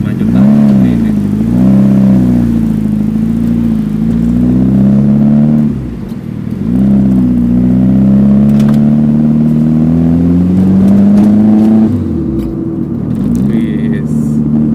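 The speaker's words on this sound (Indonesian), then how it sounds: "Dan kita bakal ngetes mobil ini gimana di jalan yang macet-macet tadi ini." A Mitsubishi Evo 4 GSR moves through congested traffic, its engine droning loudly and steadily and rising in pitch with each gentle acceleration before easing off, which it does twice, with no talk over it.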